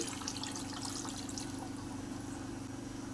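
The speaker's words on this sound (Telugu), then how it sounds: "ఒక గ్లాస్ నీళ్లు వేసుకోవాలి" A soft, steady trickle of a glass of water being poured into a chicken fry masala mixture, faint and continuous, with a low background hum underneath.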